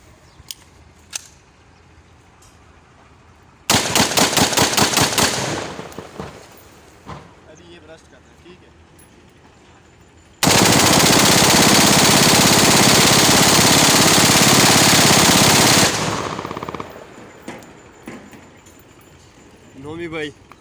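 A Double Star M4 rifle is test-fired in two loud, close bursts of rapid automatic fire, a short one and then a longer sustained one, with people talking between the bursts.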